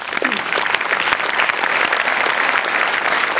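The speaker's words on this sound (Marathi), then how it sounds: "मला खूप टाळ्या वाजवायच्या वाटतात" Audience applause at an interview show, a dense burst of clapping that starts at once and holds steady and loud throughout, with no speech over it.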